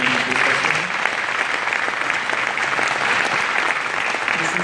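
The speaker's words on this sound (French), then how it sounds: "Vous me les applaudirez à chaque fois" Audience applause at a public event in Franconville, a dense, steady wall of clapping lasting the whole stretch, loud and close, with no voices standing out.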